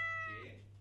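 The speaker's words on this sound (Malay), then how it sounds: "Uish, kucing." A single clear cat meow, a bright tonal cry that fades out over under a second, heard during a guessing game with no talking over it.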